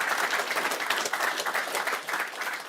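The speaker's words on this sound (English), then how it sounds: "Please give them a warm round of applause." A live studio audience at a GAA provincial football draws broadcast applauds the pundits, a dense, steady wash of many hands clapping, moderately faint and heard alone.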